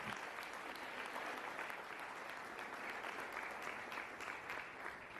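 A church congregation applauding together during an evening service, sustained dense clapping that stays steady and loud throughout.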